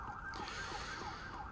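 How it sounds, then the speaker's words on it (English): Police sirens pass outside a city apartment, a steady wailing tone rising and falling continuously, fairly loud against a constant background rumble. "Oh, the sirens. Why the sirens?"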